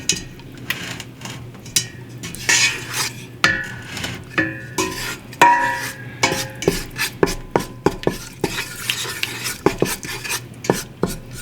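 A roux of all-purpose flour being mixed constantly in a pot on the stove for chicken soup, with repeated close scraping and knocking of the utensil against the pot in a steady uneven rhythm and no talk.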